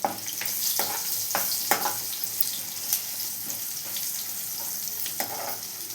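Bitter gourd sticks fry in a pan with a steady, close sizzle, broken by a few brief scraping and stirring knocks, with no talk over it.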